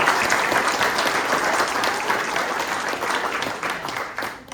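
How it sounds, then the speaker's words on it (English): An audience at a Long Island waterkeepers event claps as a round of applause, a dense, loud burst of many hands that gradually fades and thins out. "Let's give them a round of applause."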